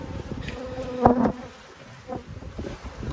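Honeybees buzzing steadily around an open hive box during a hive inspection, close and continuous, with a louder burst near the middle and faint handling noises.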